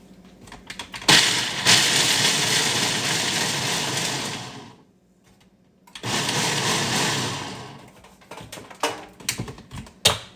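A kitchen blender whirs loudly through a nutty, carroty batter for harvest spice bread in two long sustained runs separated by a brief pause, with a few clattering knocks as it finishes.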